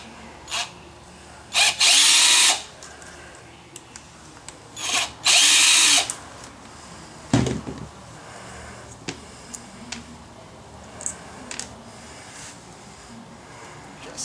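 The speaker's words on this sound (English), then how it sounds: "Use our handy Harbor Freight drill and the number 2 screwdriver bit." A Harbor Freight drill fitted with a number 2 screwdriver bit backs screws out of a transmission case in several short, loud whirring bursts separated by pauses, with light clicks and handling taps in between.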